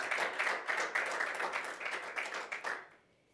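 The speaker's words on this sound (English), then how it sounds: "maybe a warm applause for us to start the discussion" A small audience at a panel discussion on development cooperation gives brief, fairly quiet applause for a few seconds. The clapping stops abruptly into near silence.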